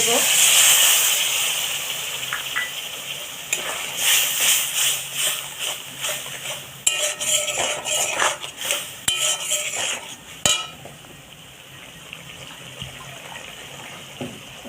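Mustard-chilli crab gravy in a pot, with clattering utensils and pan knocks, stirring and watery sounds, close and busy in the middle, then settling to a quieter low bubbling at the end.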